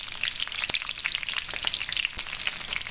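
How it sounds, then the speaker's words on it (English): Thin julienned red pepper strips sizzle in hot oil in a pan, a steady bright frying crackle with scattered pops and sputters, close and alone. "Get them in the oil. I'm going to start to saute those."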